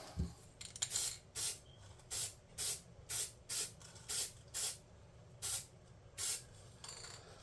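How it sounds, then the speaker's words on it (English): An aerosol spray can hisses in about a dozen short, evenly spaced bursts, close and fairly quiet, with brief silences between. "with a very light spray."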